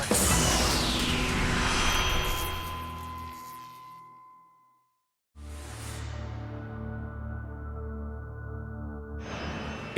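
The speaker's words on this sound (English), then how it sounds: "LaMia Flight 2933 is about to take off." LaMia airliner taking off at Santa Cruz, Bolivia: loud roaring jet engines that sweep and fade away, a brief gap, then a renewed steady engine roar close by.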